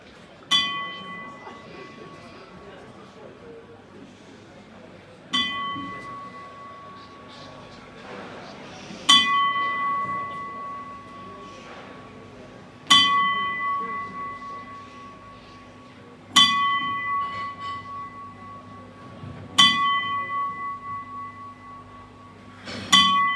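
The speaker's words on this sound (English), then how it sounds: "Timekeeper, 10 bells," A boxing timekeeper rings a ten-bell memorial salute, with single loud bell strikes spaced evenly several seconds apart, each ringing out and fading in a hushed arena.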